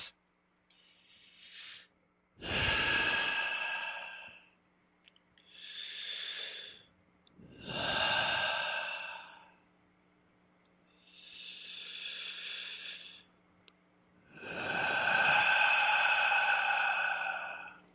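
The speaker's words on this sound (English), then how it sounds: "you'll take 5 specifically deep breaths" Slow, deep breaths during a guided breathing exercise, five long airy inhales and exhales separated by quiet pauses, close and fairly loud with no talking.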